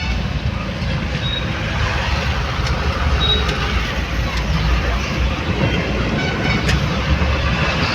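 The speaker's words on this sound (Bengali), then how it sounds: "রাস্তা খুব ব্যস্ত রাস্তা এটা একটা।" Busy road traffic on a route toward Bankura, a dense continuous rumble of passing vehicles with low engine roar, steady and fairly loud, with no clear speech.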